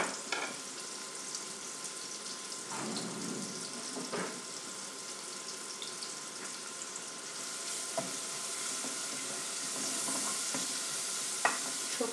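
A small amount of chopped onion softly sizzling in a little oil in a pan, a quiet steady hiss with an occasional stir or scrape, and no voices.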